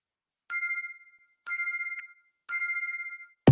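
An electronic telephone ringtone sounds during a phone call, three short bursts of warbling rings evenly spaced about a second apart, clear and alone with silence between them.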